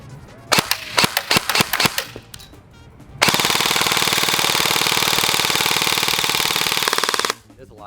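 A garbage truck engine runs close by, a loud, steady, rumbling roar that holds for about four seconds. It follows a quick series of sharp plastic clicks.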